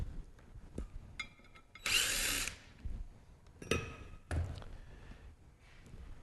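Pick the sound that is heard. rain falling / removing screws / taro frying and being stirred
removing screws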